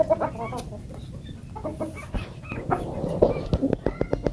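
Village hens and roosters cluck and call close by in a busy, overlapping flock, with sharp bursts rising over the steady chatter and faint voices in the background.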